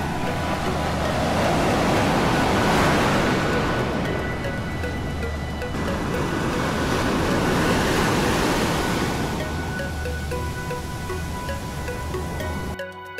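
Ocean waves wash continuously onto a Zambales beach, a steady broadband roar that swells and recedes in slow surges, close and loud with some wind noise, no voices.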